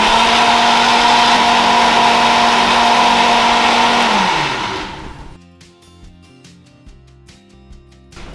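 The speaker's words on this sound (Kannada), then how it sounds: "ನಾನು ಇದನ್ನು ಗ್ರೈಂಡ್ ಮಾಡ್ಕೊಡ್ತೀನಿ" A kitchen mixer grinder grinds a fine paste with a loud, steady motor whine for about four seconds, then spins down and stops, leaving quiet background music.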